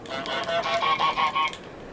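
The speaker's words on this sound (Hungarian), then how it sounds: "Nem baj, nem baj, hogy halk vagy, mert már jó hangosan fogsz gágogni." A cartoonish goose from Untitled Goose Game lets out a loud, close honk, a quick run of nasal squawks over about a second and a half before fading out.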